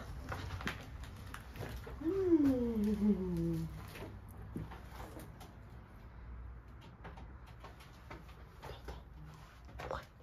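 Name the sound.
pigeons cooing in an abandoned factory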